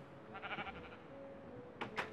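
Quiet bleating from a Minecraft sheep, a short wavering call followed by a couple of brief sharper sounds near the end, with no voices.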